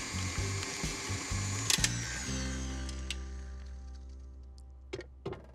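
Cake batter with lemon juice and vanilla being blended by a mixer, a steady mechanical whir with a rattling, ratchet-like start that runs evenly then fades out near the end.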